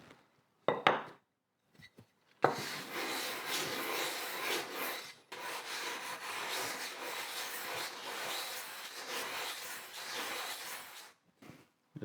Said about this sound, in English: So I basically just want to sand this down so it's nice and smooth.